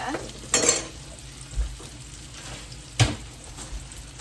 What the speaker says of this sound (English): Let me stir this back here, see how that's doing.